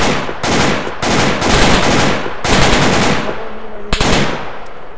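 Heavy gunfire during a rescue operation, with loud, close bursts of rapid automatic fire that come in long volleys broken by brief gaps.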